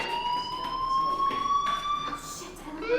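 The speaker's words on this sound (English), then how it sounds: "do you hear that fire alarm?" A steady electronic fire alarm tone rings continuously in the video game Life Is Strange, with rising pitch sweeps near the end, under a faint background of muffled activity.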